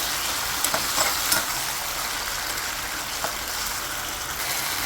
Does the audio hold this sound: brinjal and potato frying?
yes